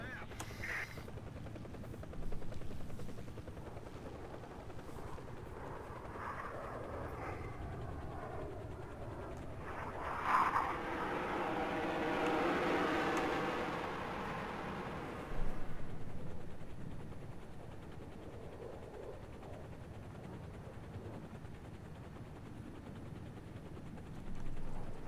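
An EC-665 Tiger helicopter lifts off in War Thunder, its steady rotor and turbine drone rising in a broad swell through the middle of the takeoff, with someone talking over it.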